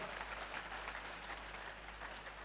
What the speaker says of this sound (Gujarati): જોરદાર તાળીઓ એક વખત છેલ્લી વાર